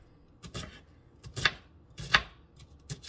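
Onions are chopped with a knife on a cutting board for shepherd's pie: four or five sharp, separate knocks spaced about half a second apart, close and clear, with no talking.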